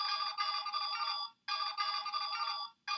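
Power Rangers Samurai Morpher toy playing its electronic phone-call ringtone, a bright warbling chirp repeated in two long bursts with short gaps, then a third starting, loud and close with no talking.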